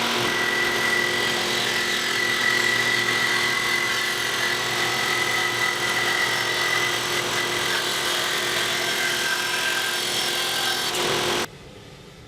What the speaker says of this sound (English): This is the first time I've used this bandsaw for a board